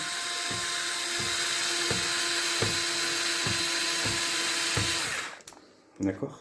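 A power screwdriver drives screws into a Traxxas XO-1 RC car with a steady high whine and regular pulsing for about five seconds, then stops, and a person speaks briefly.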